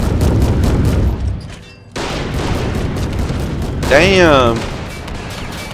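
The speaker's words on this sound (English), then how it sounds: "now all three of those guns are just opening up" Gunfire and artillery in the Army Men of War video game, dense bursts and booms running throughout, with a brief dip in the middle and a whistling shell sweep near the end, while a man mutters a short curse.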